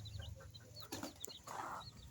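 A hen of a local breed, mother of ten chicks, clucks softly in a backyard flock, with faint, brief chirps from chicks scattered over quiet outdoor background noise.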